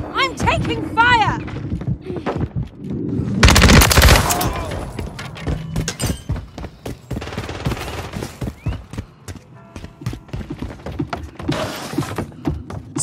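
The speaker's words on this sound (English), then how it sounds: "I'm taking fire!" Gunfire in the World War III video game: bursts of rapid shots and louder volleys, with a dense stretch of fire near the middle, mixed with game effects and talk from players.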